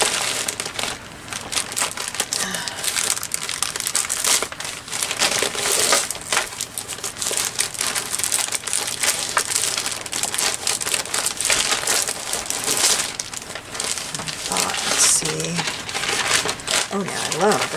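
Fall Thanksgiving decorative paper crinkles and crunches loudly and close up as it is handled, in dense, continuous rustling bursts.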